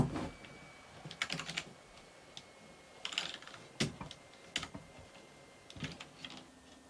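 Keys clatter softly on a laptop keyboard as a password is entered during a Windows 11 installation, a faint, irregular run of close taps in small clusters with no talking.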